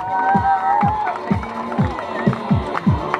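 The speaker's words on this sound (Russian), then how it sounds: "Аплодируем." An audience at a live-art party applauds as artists reveal a portrait of the evening's host, with rhythmic clapping and crowd cheering over a buzzy, noisy room.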